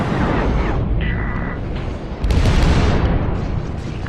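Cluster missile explosions in Star Citizen during a Super Hornet fight, a dense rumbling barrage of booms swelling louder midway under steady engine roar, close and heavy, with a voice faintly present.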